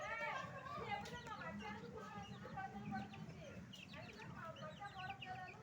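Chickens clucking and calling around evening feeding time at about 5 pm, several birds chattering close by with scattered squawks, faint and continuous, with a person's voice talking among them.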